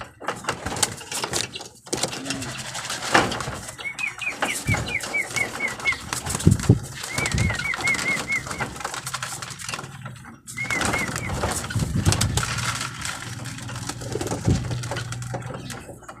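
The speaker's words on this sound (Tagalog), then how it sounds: "Papakawalan natin yung mga kalapatids" Pigeons being released, wings flapping in bursts alongside repeated cooing calls, close and moderately loud against outdoor background noise.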